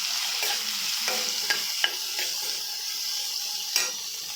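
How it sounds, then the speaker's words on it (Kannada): Onions and green chillies frying in oil during preparation of a broiler chicken pepper dry, with a steady soft sizzle broken by several sharp stirring clinks and scrapes of a utensil against the pan. "ಈರುಳ್ಳಿ ಒಂದು ಸ್ವಲ್ಪ ಕೆಂಪು ಬೇಯಿಸ್ಕೊಳ್ಳಿ"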